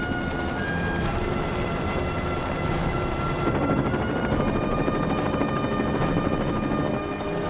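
Helicopter rotor thumping and engine whine, steady and loud throughout as the aircraft circles near cooling towers and makes its approach to land, with a high whine rising partway through.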